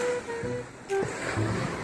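Sea waves slosh and break against the hull of a small wooden outrigger boat in rough water, a steady wash of surf with a heavier surge partway through.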